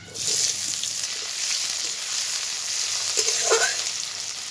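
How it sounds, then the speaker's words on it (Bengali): Chopped onions frying in mustard oil in a kadai give a continuous close sizzle with a few soft stirring touches, alone without speech. "আর একটু সর্ষের তেল আমি কড়াই দেব এবারে কুচানো পেঁয়াজগুলো দিয়ে দেবো"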